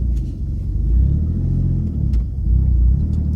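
A Mercedes M104 turbo engine idles while warming up, a steady close low rumble with a slight rise and dip in revs, alone with no talk.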